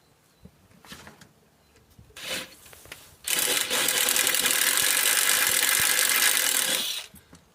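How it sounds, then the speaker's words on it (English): A power drill drives a 25mm countersink bit into a garden gate, starting with quiet handling knocks, then a loud, steady grinding whir for about four seconds before it stops. "Next, I'm using a 25mm countersink."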